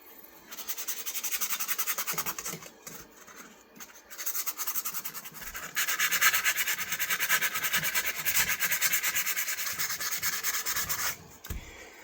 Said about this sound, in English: So I've got to use a piece of 180 grit. I'm going to use that to get this rust off.